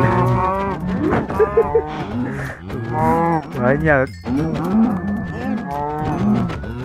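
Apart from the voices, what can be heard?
cows mooing in the video game Minecraft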